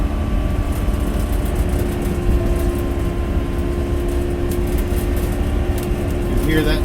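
A truck engine revs hard in tow haul mode while descending a steep downhill grade on a travel day, a steady loud drone with continuous road and cabin noise and no distinct rev changes.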